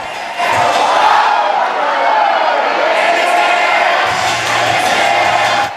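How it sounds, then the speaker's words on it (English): A packed hotel ballroom crowd at an election-night victory celebration in Baton Rouge cheers and sings loudly, a dense, sustained roar of many voices with no gaps. "Crowds packed into the ballroom of the Renaissance Hotel in Baton Rouge, joining elected officials and supporters on stage, singing out loud."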